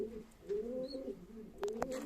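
Black Turkish play pigeons coo softly in a low, wavering murmur, with a few faint clicks and rustles near the end.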